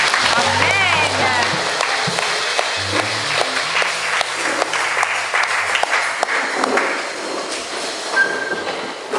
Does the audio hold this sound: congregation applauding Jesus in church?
yes